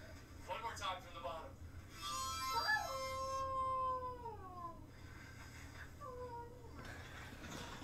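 A German Shepherd howls in a long, rising and falling wail that holds for a couple of seconds, then gives softer, shorter howls after it. The sound is fairly close over a steady low background hum.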